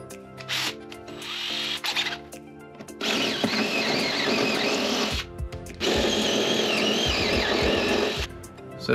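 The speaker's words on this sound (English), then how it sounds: "then we're gonna drill some holes" A power drill bores holes into a boat hull while fitting a Lewmar Axis shallow-water anchor system, sounding as several loud, close whirring bursts separated by short pauses.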